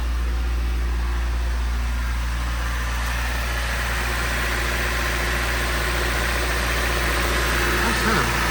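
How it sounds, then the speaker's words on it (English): A Honda Del Sol engine idles smoothly and steadily after a fuel pump repair, with a low, even hum that runs continuously throughout, close by and fairly quiet. "Motor runs great, quiet, smooth."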